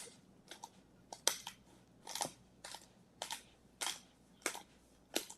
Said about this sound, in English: So I'm going to grind some pepper in.